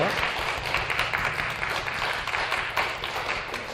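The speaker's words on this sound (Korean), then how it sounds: "선물 줄 때 박수 치면서 환영하죠." Applause welcomes young people at a church youth service, a dense, steady crowd clapping heard indoors at moderate volume throughout.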